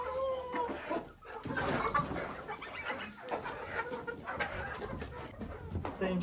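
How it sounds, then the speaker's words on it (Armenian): Geese call from a village poultry yard on a day of first snow, with several harmonic honks near the start and then steady, cluttered flock noise close by throughout. "Ինչպես գիտեք, սագերն էին"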